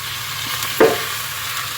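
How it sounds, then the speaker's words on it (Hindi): Chicken jalfrezi pieces with garlic ginger paste and dry spices fry in a pan over a medium-low flame, giving a steady soft sizzle with one brief louder stir or scrape partway through and no talking. "मिक्स करेंगे अच्छी तरीके से, मसालों के साथ फ्राई करेंगे।"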